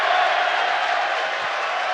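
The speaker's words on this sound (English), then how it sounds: "And the crowd roars." A crowd roars steadily after an ultimate frisbee goal, a dense, sustained wash of cheering held at constant loudness throughout with no distinct voices standing out.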